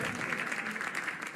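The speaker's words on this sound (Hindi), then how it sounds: "जोरदार तालियां जेनी जी के लिए," Studio audience applause for a contestant named Jenny on the comedy talent show India's Got Latent, a brief, steady patter of clapping at moderate level.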